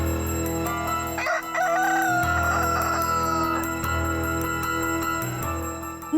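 A rooster crows once, a drawn-out rising and falling call, heard over steady background music.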